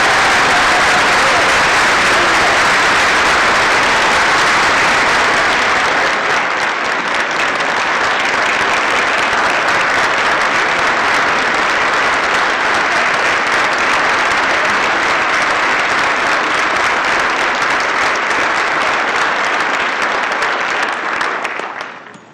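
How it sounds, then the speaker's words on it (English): Sustained audience applause at a school staff retirement recognition ceremony, loud and dense clapping from a large crowd that holds steady for about twenty seconds before tapering off. "I would appreciate it if you could please join me in a round of applause"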